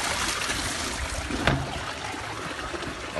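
Water flows steadily into an aquarium filter decanter, a continuous close trickling and splashing wash with one brief clunk partway through.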